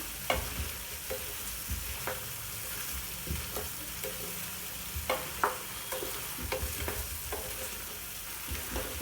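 Potato pepper fry with pepper powder and curry leaves being stirred in a pan over a steady low sizzle, with repeated sharp scrapes and knocks of the spoon against the pan, close and without speech.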